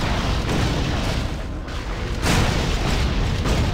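Cannon fire from an Engineer character in the video game Torchlight 2, a continuous barrage of loud booming blasts that runs for several seconds with a short dip in the middle and no talk.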